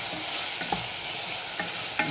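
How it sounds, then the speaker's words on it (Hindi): Okra and tomatoes fry together in a pan, giving a dense continuous sizzle with a few quick stirring scrapes near the end, close and free of talk. "अब हमने टमाटर और भिंडी को एक साथ भून लिया।"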